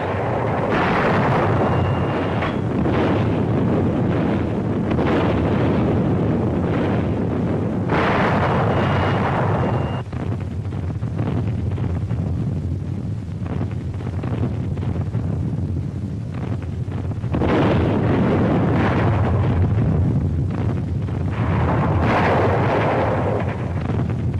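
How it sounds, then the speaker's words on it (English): Naval guns bombard the Normandy coast during the D-Day invasion, a continuous heavy rumble swelling into repeated booming bursts, loud and distant-sounding, on an old archival soundtrack. "Daybreak. The naval bombardment continues."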